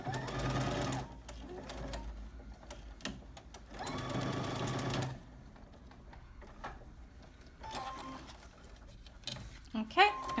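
A sewing machine stitches a Petersham-covered waistband closed in two bursts of steady whirring, each lasting about a second. Quieter handling noises fill the gaps between them.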